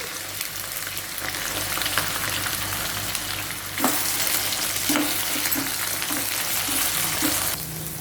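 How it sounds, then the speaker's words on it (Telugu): Tindora (ivy gourd) pieces fry in hot oil with a steady, dense sizzle throughout, broken by occasional scraping knocks and stirs of a spatula against the pan. "ఇప్పుడు ఇదే నూనెలో ఈ దొండకాయని ఒక 2 సార్లుగా మనం వేయించి పక్కన పెట్టుకోవాలి."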